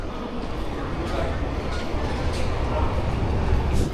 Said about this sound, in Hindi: 1442 पे आ रही है भाई ट्रेन।